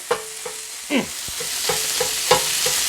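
Metal spatulas clack and scrape rhythmically against a hot griddle while chopped cheesesteak meat sizzles steadily underneath.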